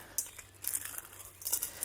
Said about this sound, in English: So next level is I want to crush these.